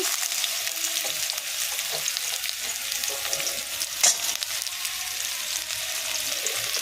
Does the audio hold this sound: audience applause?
no